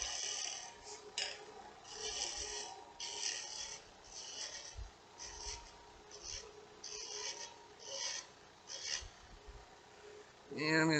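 A wood turning tool scrapes a turned piece on a spinning lathe, giving a steady rasping, gritty sound in repeated strokes of about a second each, fairly close and moderately loud, with a brief tonal ring at the very end.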